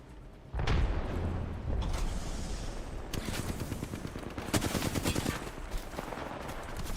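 Rapid automatic gunfire in a video game, a dense continuous stream of shots with mechanical clatter and occasional heavier bursts, loud and close throughout.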